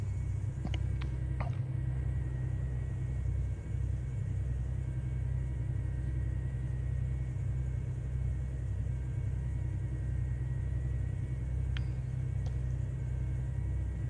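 A truck engine idling in Euro Truck Simulator 2, a low, steady rumble that runs unbroken throughout, with a few faint clicks.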